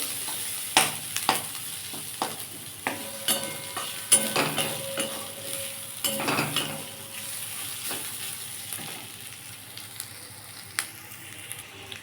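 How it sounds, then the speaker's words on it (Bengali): Onions and garlic frying in a pan, soft steady sizzle broken by repeated scraping stirs and clinks of a spatula, close and fairly quiet. "আমার পেঁয়াজ রসুন সবই ভাজা হয়ে গেছে"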